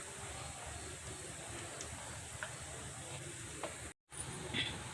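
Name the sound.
sugar gorumiti sweets frying in oil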